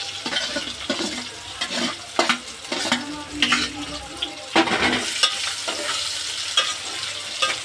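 Fenugreek powder and curry leaves fry in hot tempering oil, a loud continuous sizzle broken by repeated stirring scrapes of a utensil in the pan, close and without talk.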